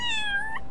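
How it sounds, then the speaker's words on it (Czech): A cat meows once in the video game Little Kitty, Big City, a short, clear, close meow that slides slightly downward in pitch. "tím můžu mňoukat"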